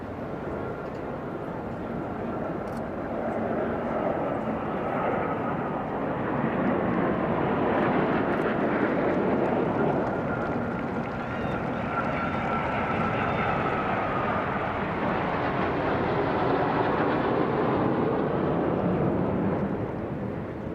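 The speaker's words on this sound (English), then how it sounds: "2 Typhoon aircraft provided by RAF Lucas and 2 Tornado GR4s by RAF" Two RAF Typhoon and two Tornado GR4 jets make a flypast over a Trooping the Colour ceremony in London, a broad roaring rumble that swells and slowly fades, heard continuously over a distant crowd without talk.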